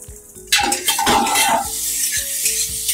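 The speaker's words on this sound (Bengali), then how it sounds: "1 মিনিট পর আমি ঢাকাটা খুলছি" A lid lifts off a pan of frying potatoes with a sharp metallic clatter, releasing a bright hiss of sizzling oil that continues steadily beneath light scraping of cookware.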